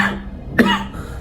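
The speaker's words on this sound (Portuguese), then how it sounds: "Desculpa pela tosse" A single sharp cough from a preacher with a lingering cold, one close burst midway through after a brief low hum, followed by quiet room tone.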